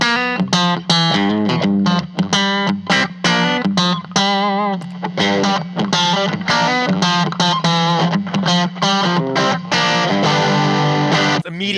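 Electric guitar played through K-Line CE 511 Enchanted Tone and Satone S805 Mandarin overdrive pedals: loud, driven chords and single-note riffs in quick rhythmic bursts with short gaps, alone with no talk.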